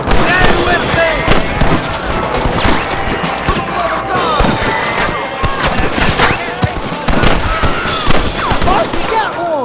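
Loud, dense gunfire in a shootout with rustlers in the video game Red Dead Redemption, with overlapping rifle and pistol shots cracking almost without pause and shouting voices mixed into the battle.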